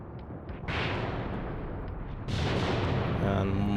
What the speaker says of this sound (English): And mortars are landing on Western Korotic.